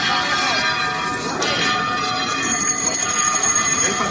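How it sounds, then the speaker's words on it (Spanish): Church bells ring a loud, ringing peal as a procession carrying the patron saint of Ávila reaches a Carmelite convent, the overlapping strokes sustained and clangorous throughout. "La comitiva con la patrona de Ávila era recibida con este replique de campanas"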